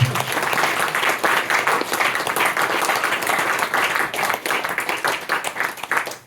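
An audience at a talk gives a burst of lively applause, many hands clapping in a dense, fluctuating roar close by, with no talk over it.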